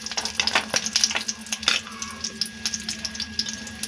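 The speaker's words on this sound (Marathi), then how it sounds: "आता आपण त्यामध्ये जे आपले सगळे सुके मेवे आहेत ते व्यवस्थित 2 मिनिटं फ्राय करून घेऊया।" Almonds, cashews, charoli nuts and raisins frying in a little oil for carrot halwa, giving a soft crackling sizzle dotted with sharp pops and clicks as they are stirred in the pan.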